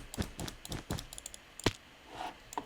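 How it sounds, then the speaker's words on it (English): Crisp clicks from a computer mouse during Minecraft moonwalk bridging, a rapid irregular run of close, sharp taps in small bursts with short gaps, no talk. "You can hear my mouse clicking."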